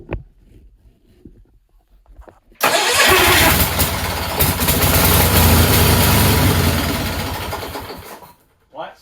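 A Sears lawn tractor engine cranks and catches around the third second, then runs loud and steady close by, with a faint voice murmuring in the quiet before it starts.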